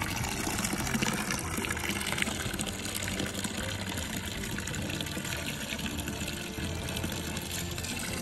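Mountain spring water pours and gushes in a continuous loud rush as a bottle is filled, steady and close throughout with no talking.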